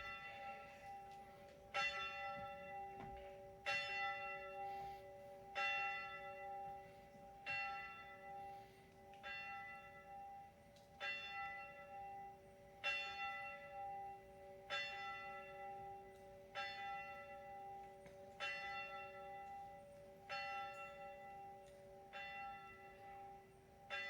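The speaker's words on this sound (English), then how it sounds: "Cue the belfry bell." A belfry bell rings at an outdoor graduation ceremony, regular resonant strokes roughly every second or two over a steady hum, continuing for the whole stretch with no talking.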